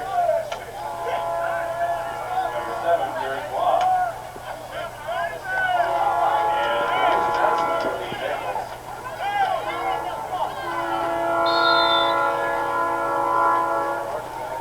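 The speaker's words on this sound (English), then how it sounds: "Train coming." A train passes near a football game, its horn sounding in long tonal blasts again and again over a steady rumble, with people talking throughout.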